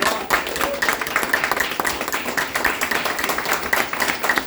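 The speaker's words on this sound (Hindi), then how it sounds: "तो जोरदार तालियां इस प्लेटफॉर्म के लिए।" Audience applause at a public event, steady clapping from many hands filling the whole stretch at moderate loudness, with no clear speech over it.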